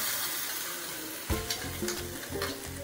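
An onion and coconut chutney mixture is stirred and fried in a pan for medu vada, with steady sizzling and several louder scraping stirs in the second half.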